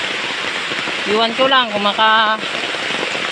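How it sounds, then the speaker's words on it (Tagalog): Heavy typhoon rain pours steadily over a farm, a constant dense hiss with someone speaking briefly in the middle. "lakas ng mga ulan na to"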